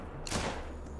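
A hunting rifle fires once in the hunting video game theHunter, a sharp single crack that fades into a short low rumble.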